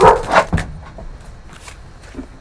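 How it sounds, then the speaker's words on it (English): A dog gives a couple of quick, loud barks up close, followed by quieter muffled sounds and faint background noise. "he's barking at the cat"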